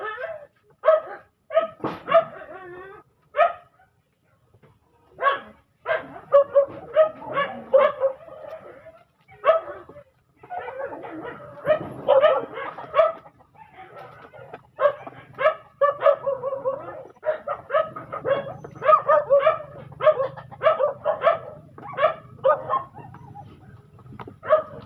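Several dogs bark and yip in loud, rapid bursts as they are fed on a rainy morning, with chickens and cats also being fed nearby, the barking continuing with only brief pauses throughout.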